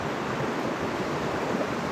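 A fast-flowing trout stream running high with water rushes in a steady, loud, continuous wash close to the microphone.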